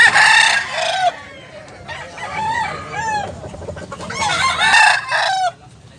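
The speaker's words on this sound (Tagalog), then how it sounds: "Grabe mga manok dito sa Cebu mga idol." Roosters in Cebu cluck and crow loudly nearby, several overlapping calls with long crows at the start and end and busy clucking between them.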